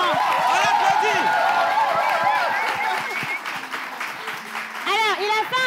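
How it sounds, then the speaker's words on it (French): An audience applauds with a steady round of clapping as voices call out loudly over it, and the talk nearly drowns the applause at times. "On l'applaudit."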